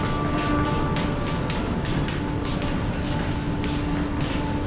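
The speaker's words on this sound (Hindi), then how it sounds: "ये है हज़रत निज़ामुद्दीन रेलवे स्टेशन" Railway station platform ambience at Hazrat Nizamuddin station in Delhi, with a steady, dense rumble of trains and station noise throughout and faint, brief clicks over the top, no clear voices.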